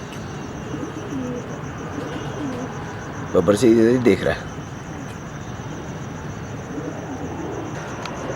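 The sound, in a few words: pigeons cooing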